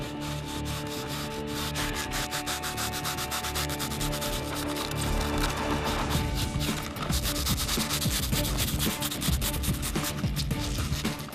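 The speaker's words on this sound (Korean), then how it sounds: "충전이 끝나고 나면 나무의 형태에 따라 우레탄을 다듬어 주는데요." Continuous rough scraping and rasping as cured urethane foam filling a cavity in an old protected tree is trimmed to the trunk's shape, loud and close with steady strokes.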